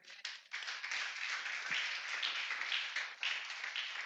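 A church congregation at a Sunday service claps together in a steady, dense patter of many hands, close and lively, continuing without a break for several seconds.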